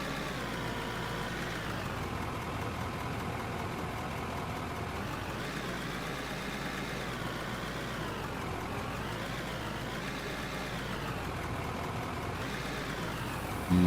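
An engine idles steadily and loudly throughout, a continuous mid-pitched rumble with slow wavering in tone and no pauses, close to the microphone.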